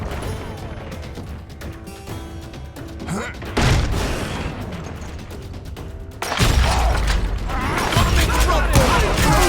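Gunfire and mechanical clatter in the Western shooter Call of Juarez Gunslinger, with bursts of loud shots and reloading ratchets in a dense, busy mix that swells sharply midway and near the end; someone talks over it.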